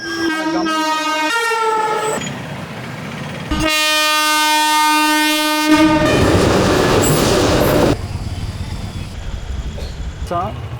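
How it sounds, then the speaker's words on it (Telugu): A train passes a gated level crossing with waiting road traffic, sounding loud, close horn blasts in two long bursts before heavy wheel clatter and rumble take over. "ఇప్పుడు ట్రైన్ వస్తుంది."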